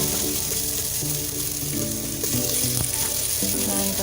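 Red onion and ginger fry in a pan while being stirred, a loud close sizzle with crackling pops and intermittent spatula scrapes throughout.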